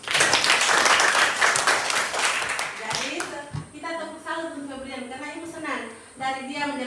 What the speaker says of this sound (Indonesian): Tepuk tangan untuk Kebian.